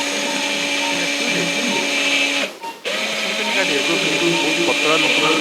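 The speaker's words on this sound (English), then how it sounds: "Drill." A high-pitched surgical drill whirs steadily during live brachial plexus surgery, pausing briefly midway before running again, with murmured voices underneath.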